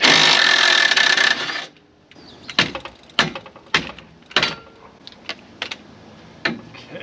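Sharp metallic knocks as a part is hammered out of a TJ Jeep Wrangler front axle: a loud grinding burst first, then about ten separate close strikes at irregular intervals, with no talk.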